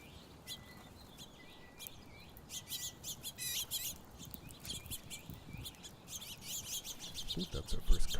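Birds chirp and tweet repeatedly at backyard feeders on a morning where cardinals visit, their calls close and crisp over soft rustling and outdoor background noise.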